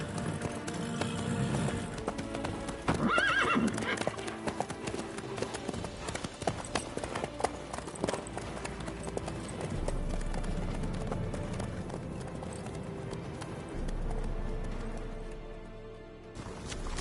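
A horse in The Witcher 3 clip-clops along at a steady walk, its hooves thudding over a continuous game soundscape, with a voice briefly speaking early on.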